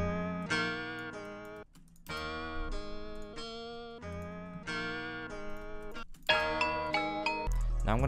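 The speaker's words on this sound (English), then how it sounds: "This is a real dope guitar. It sounds really realistic." A synthesized guitar patch in FL Studio plays a looping melodic pattern of bright plucked, ringing notes in repeated phrases, loud and steady with brief gaps between phrases.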